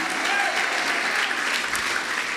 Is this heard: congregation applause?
yes